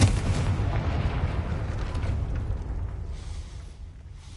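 Confringo fire spell explosion cast at a gate in the video game Hogwarts Legacy, a loud booming blast with a rumbling roar that sustains and slowly fades over several seconds.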